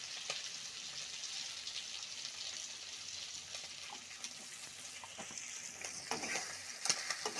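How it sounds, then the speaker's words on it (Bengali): Turmeric and chili powder frying in hot oil, with a steady bright sizzle and occasional scraping clicks as a utensil stirs the spices through the pan; no one speaks. "ভালো করে এবার মশলাটা তেলের সাথে মিশিয়ে নেওয়া হচ্ছে"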